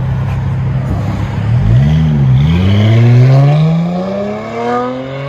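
A car engine runs through a knock-off Flowmaster exhaust, a low steady rumble that swells in a smooth rev and settles back, close and loud with no talking.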